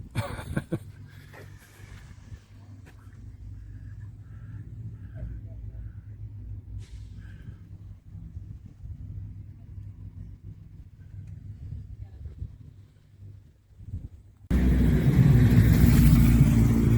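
A car pulls out of a car park in Alford, Scotland, its engine a steady low rumble heard from inside the cabin, with a few faint knocks; a louder burst of road and engine noise swells near the end.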